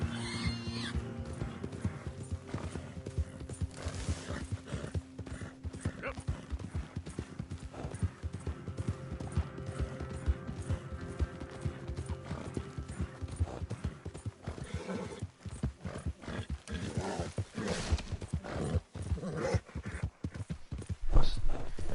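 A horse in Red Dead Redemption runs with continuous clip-clop hoofbeats and occasional neighs over a busy game soundscape, fairly loud and steady, with a heavier thud near the end.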